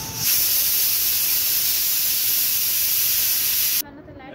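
Steady loud hiss of steam escaping from a pressure cooker whistle, continuous for several seconds and then cutting off abruptly.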